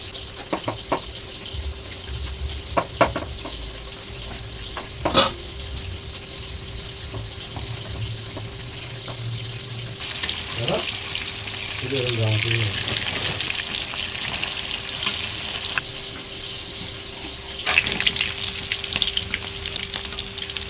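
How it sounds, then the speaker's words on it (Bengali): Rohu fish fry in oil in a pan, sizzling steadily with occasional clinks and scraping, the frying hiss swelling louder partway through, while a rooster crows faintly. "মাছগুলো এরকম লাল করে ভেজে নিয়েছি, তুলে নেব"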